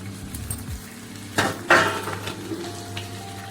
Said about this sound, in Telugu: అవి కూడా ఆయిల్లో ఫ్రై చేయాలండి.